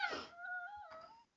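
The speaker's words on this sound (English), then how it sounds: "Yeah, that's my dog." A dog whimpers once, close to the microphone, a brief rising and falling whine with a short break, heard alone in a quiet room.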